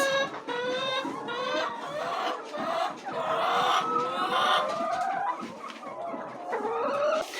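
Farm chickens clucking and calling near a gate by a chicken house, several birds overlapping in a busy, fairly close chorus that rises and falls throughout.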